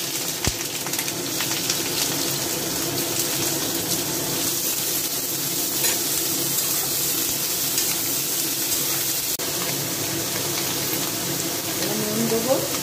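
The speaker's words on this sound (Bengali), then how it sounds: "এবার ভাজা তেলগুলোর মধ্যে বেগুন দিয়ে দেব।" Brinjal goes into hot oil left from frying neem leaves and sizzles with a continuous moderate hiss and faint crackling throughout, close by and fairly even in level.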